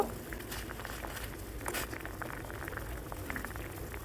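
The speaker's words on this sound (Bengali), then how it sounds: "এই যে বলক উঠে গেছে" Raw mango pieces boiling in a pot for morabba give a soft, steady bubbling and popping patter, close but faint, continuing evenly throughout with no talk.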